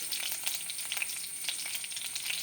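Green chillies sizzle and fry with garlic and ginger in a hot pan, a steady crackling hiss with soft stirring, close and fairly quiet with no talk.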